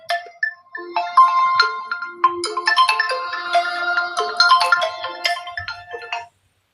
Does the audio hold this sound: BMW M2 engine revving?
no